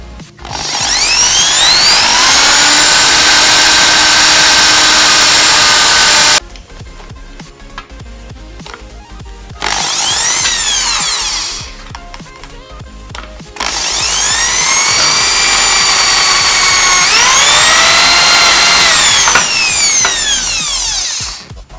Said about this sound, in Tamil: அந்த மாதிரி ட்ரில் வாங்கிட்டு அந்த நம்ம மார்க் பண்ண இடத்த அப்படியே ட்ரில் பண்ணிக்கலாம்